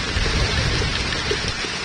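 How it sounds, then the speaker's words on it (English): Heavy rain mixed with hail pours down at Seaside Heights during a storm, a loud, steady, broadband roar of drops hitting surfaces with no voices. "Definitely sounds like there's some hail in there."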